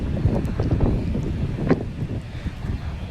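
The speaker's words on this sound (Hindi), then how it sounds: "बहुत ठंडी हवा चल रही है यहाँ पर।" Strong cold wind blowing during heavy rain in Saudi Arabia, a loud gusty rush buffeting the microphone with rumbling swells that rise and ease over a few seconds.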